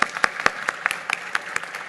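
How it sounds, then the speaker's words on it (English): A small, thin round of applause at a MoneyConf 2017 conference pitch session: scattered individual claps at a steady pace, fairly close, with faint voices beneath. "Big round of applause there."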